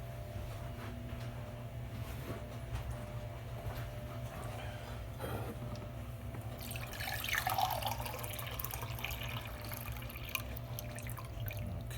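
Room-temperature water trickles steadily into a well of flour for bread dough, a faint, continuous liquid splash over a low background hum, which swells briefly midway.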